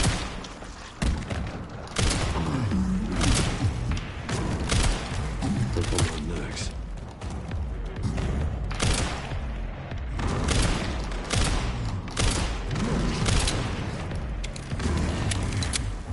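Gunshots ring out in Resident Evil Requiem, one loud blast after another over a steady rumble of game sound, with heavy impacts and booms spread across the whole stretch.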